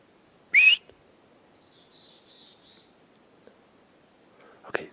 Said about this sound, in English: I just heard a real whistle.